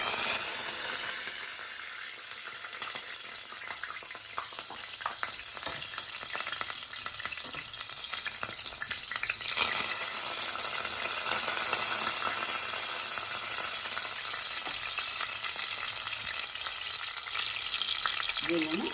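Green chillies and curry leaves hit hot oil for a mutton curry, giving a loud, continuous crackling sizzle with stirring scrapes throughout, up close and steady with no talking.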